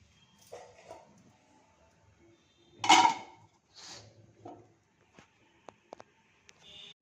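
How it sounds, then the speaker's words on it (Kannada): A metal lid is set onto a pot of steaming idli, giving one loud clattering clank in the middle. Lighter kitchen clinks and taps come before and after it, in an otherwise quiet room. "ಇವಾಗ ಮುಚ್ಚಲ ಮುಚ್ಚಿ ಬೇಯಿಸೋಣ"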